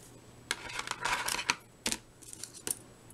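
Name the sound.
scissors cutting score tape for a card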